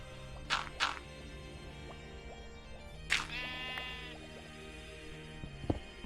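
Sheep in the Minecraft video game bleat in short, nasal calls, two quick ones close together and another a few seconds later, fairly quiet over soft game ambience.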